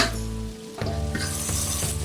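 Fried okra tipped into a pan of masala, a sudden loud sizzle after a brief lull, then continuous frying with scraping stirring strokes and light clinks of a spoon against the pan.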